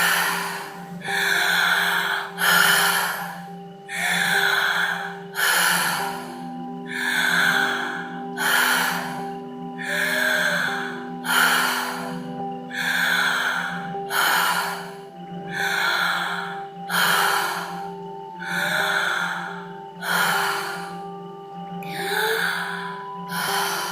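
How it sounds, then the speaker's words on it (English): Deep, rhythmic breathing during a breathwork exercise: about a dozen strong, forceful inhale-exhale cycles in a steady pattern, close and loud, with a faint musical drone underneath. "11 more breaths here."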